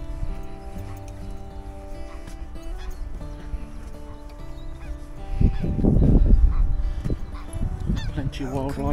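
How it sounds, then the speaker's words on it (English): Geese honk by a park boating lake, a flock calling repeatedly from nearby, with the loudest burst of honks in the middle and more calls toward the end, over outdoor ambience. "There's all the geese."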